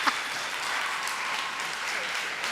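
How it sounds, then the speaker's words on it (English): An audience applauds for Melissa, a dense, even wash of clapping heard from a little distance throughout, with no clear speech over it. "can you guys please give Melissa a round of applause?"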